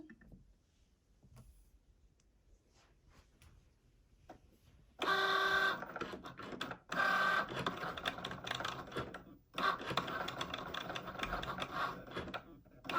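A Cricut Joy cutting machine loading a mat and then cutting, with whirring motor bursts and mechanical clicks after a quieter start, close by and loud, with a little talk early on.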